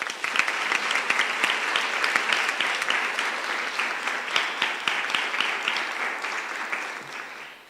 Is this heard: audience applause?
yes